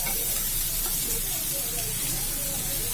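Carrots hit a pan of sautéed onions with a steady, close sizzle and light stirring scrapes.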